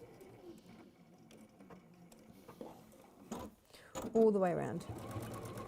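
A sewing machine top stitching around a ribbon flap on fabric gives short quiet mechanical runs and clicks, with someone talking over them and a louder burst of stitching near the end.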